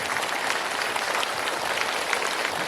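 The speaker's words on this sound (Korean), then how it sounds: "박수로 환영해 주시고요" Steady applause from an audience welcoming a Buddhist monk to a dharma talk, even continuous clapping throughout at a moderate level, without speech.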